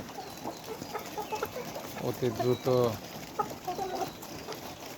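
Layer hens cluck in a poultry house during hot weather, a scatter of close calls that rises to a burst of loud clucking midway, while someone talks over them.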